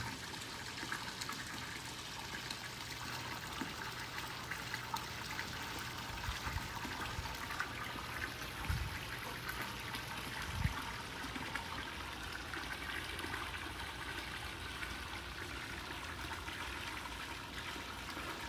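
Water spills steadily over the spillway of a 16,000-gallon koi pond in winter, a continuous moderate trickling and splashing that holds an even level from start to finish with no talk.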